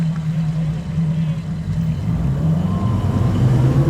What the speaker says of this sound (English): we're just gonna jump on it